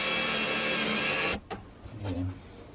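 A power driver runs steadily as screws are driven into a van's subfloor, a loud continuous whirring that cuts off abruptly, followed by a few faint knocks and shuffles.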